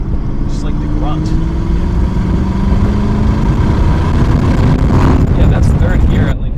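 Aston Martin V8 Vantage pulling in third gear around 3,000 RPM at half throttle, a loud, steady, rising engine drone heard from inside the car, with road noise throughout.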